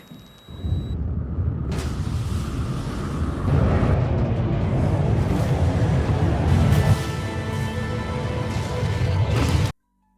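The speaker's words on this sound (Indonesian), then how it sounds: "sebuah ledakan bom tiba-tiba meledak dari balik pintu" A bomb explodes behind a door in a film: a loud, dense roar of blast and rumbling debris fills the space, swelling midway and sustained for several seconds before cutting off abruptly.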